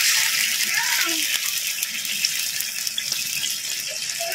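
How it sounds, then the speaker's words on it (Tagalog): Water pours and splashes into a cooking pot for sardine tinola in a steady stream, close by, with a faint voice speaking underneath. "Tapos ito, lalagyan natin ng tubig."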